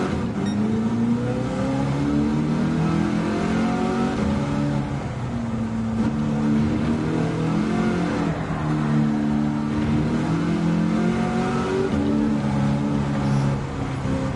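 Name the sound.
engine-swapped Mustang Mach 1 accelerating, video game Gran Turismo 7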